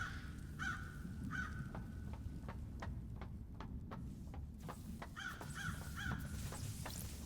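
Repeated close crow caws ring out in the video game Paradise Killer, harsh calls in short bursts over a low ambient hum with faint ticking clicks between them, no talking.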